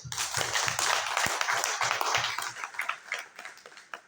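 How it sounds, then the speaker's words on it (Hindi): Audience applause at a meeting session, a dense sustained clapping from many hands that stays loud for several seconds and then thins into scattered claps toward the end, with no talk over it. "मैं तालियां बजाना चाहूंगा आप लोगों को।"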